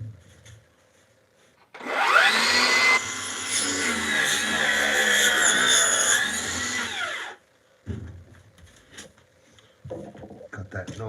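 A power tool cuts blue foam board insulation for a basement exterior sill, a loud buzzing whine that runs for about five seconds before stopping, followed by a few brief handling knocks.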